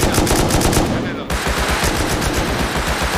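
Rapid automatic gunfire from the video game Rust bursts out in quick repeated shots, loud and close, with a brief dip before the firing resumes at full intensity.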